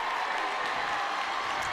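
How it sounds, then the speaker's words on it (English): Crowd cheering and applauding at a high school football game after a Marysville-Getchell Chargers touchdown, a steady wash of distant crowd noise without pause. "Crowd goes wild."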